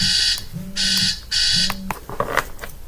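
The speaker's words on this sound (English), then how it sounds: "That was the alarm clock." An alarm clock sounds three loud, buzzing beep bursts in a regular pattern, close by, then stops and is followed by some clattering noises.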